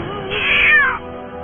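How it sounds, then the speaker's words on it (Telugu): A black cat gives a single loud, close meow that rises and falls over about a second. No voices are heard. "ఒక నల్ల పిల్లి నన్ను తరుగుకుంటూ వస్తుంది"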